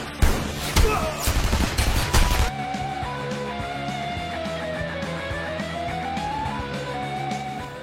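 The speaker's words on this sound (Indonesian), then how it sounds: "memicu aksi baku tembak yang berujung pada kematian para penjual senjata tersebut" Dense bursts of gunfire from a film shootout with arms dealers, rapid and loud for about two seconds, then giving way to a sustained musical score with lingering tones.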